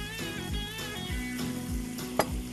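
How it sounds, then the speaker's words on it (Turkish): Onion and minced meat fry together in a pan, a close, steady sizzle and crackle with faint stirring scrapes and a brief sharp clink near the end. "Soğanım ve kıymam bir arada kavrulacaklar."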